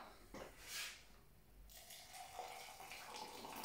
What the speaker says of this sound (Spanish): añadimos agua